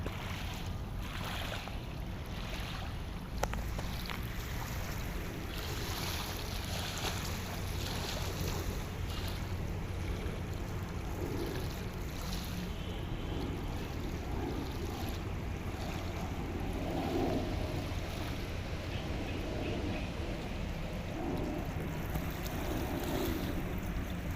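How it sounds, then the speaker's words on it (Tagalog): Seawater surges and gushes up along the shore at Dolomite Beach on Manila Bay while wind buffets the microphone, steady and fairly quiet throughout. "grabe pagbulwak hindi natin alam kung saan galing ng galing ng tubig niyan"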